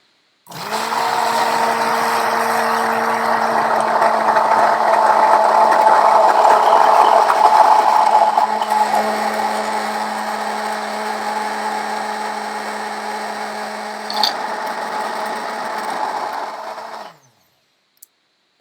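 An immersion blender runs on low speed at the bottom of a narrow container, a loud, steady motor whine that holds for about sixteen seconds and then cuts off abruptly.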